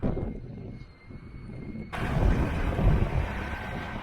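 Wind rumbles and buffets against the microphone in cold 33-degree weather, quieter at first, then suddenly louder and steady with low roaring gusts.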